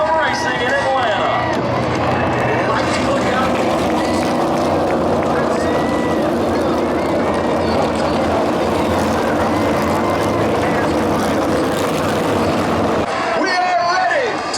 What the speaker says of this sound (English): We are ready to go green flag racing here at Atlanta Speedway.